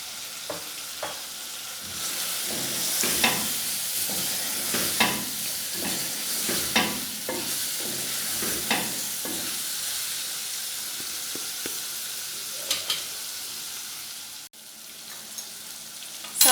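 Chickpea pulao masala fries and sizzles in a pot while a spoon stirs it, giving a steady close hiss broken by repeated scraping clinks every second or so, with no talking.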